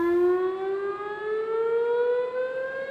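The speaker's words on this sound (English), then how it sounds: "Bank anglers who venture out are consistently warned to exit the river immediately by a siren which can sound at any time of day" Warning siren at the Oswego River power dam, a loud steady wailing tone that rises slowly in pitch and holds for the whole stretch, heard alone without talk.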